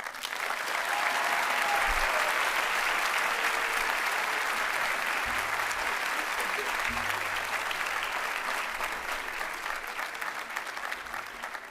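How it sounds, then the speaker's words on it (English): Steady, sustained audience applause at a 2025 academy commencement ceremony, a dense wash of many hands clapping at even volume throughout, with faint low voices underneath. "Let's give her another round of applause."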